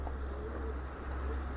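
Racing pigeons coo softly in a brief, faint burst of low murmuring over a steady background hum.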